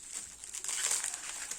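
Blue wrapping paper crinkles softly as a package is unwrapped. Faint, close rustling continues for under two seconds with no voices.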